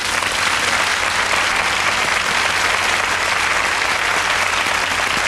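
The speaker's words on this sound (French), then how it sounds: "Vous pouvez l'applaudir." Studio audience applause on a French television variety show, a dense, steady wash of clapping holding loud and even throughout with no breaks.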